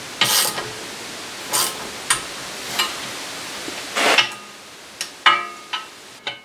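A screw driven down into a metal table in a knife shop, a series of separate close ratcheting clicks and scraping turns at irregular intervals, with no talk.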